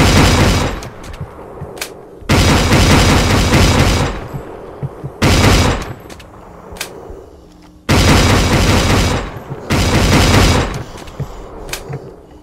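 Shotgun blasts in The Last Stand Union City, five heavy booming shots spaced a second or two apart, each with a long roaring tail that cuts off abruptly, loud and close with no talking.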